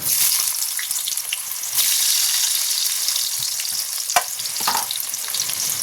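Onion and whole garam masala sizzle vigorously in hot oil, a loud, steady frying hiss with occasional scrapes and clinks of stirring, no voices.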